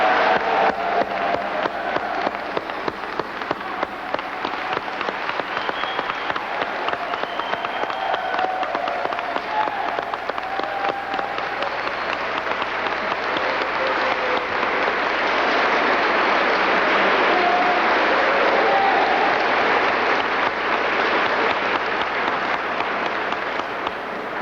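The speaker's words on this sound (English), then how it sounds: "can we have a large round of applause for all of the 1996 Hall of Fame inductees?" A large crowd gives a long, steady round of applause for the 1996 inductees at the Chicago LGBT Hall of Fame induction ceremony, swelling slightly louder toward the end with scattered cheers.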